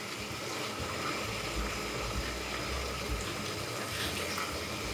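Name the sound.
pouring beef stock into the pot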